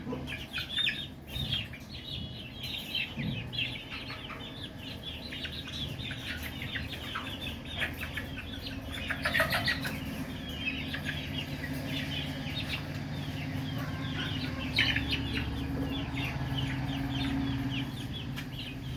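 Layer hens cluck and chirp steadily inside a newly fitted row of cages on a small farm, a busy continuous flock chatter with overlapping calls at close range and no talking.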